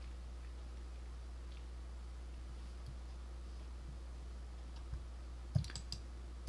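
Computer mouse clicks while working in Disk Utility on a Power Mac G5 Quad, a few faint, sparse clicks near the end following a long stretch of quiet hum, with no voices.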